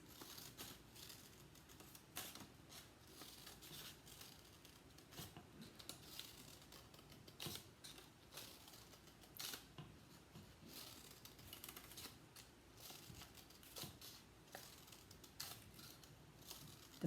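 Scissors snipping repeatedly through paper while cutting strips for a children's reticulated paper lizard craft, a steady run of close, light crisp cuts with faint crinkling and no talk.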